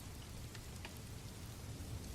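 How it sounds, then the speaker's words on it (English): Steady rain patters against the windows of the Batmobile on a stormy Gotham night, a dense, even hiss of drops that stays close and constant throughout, with no voices. "rain began falling in gentle patterns against the Batmobile's windows"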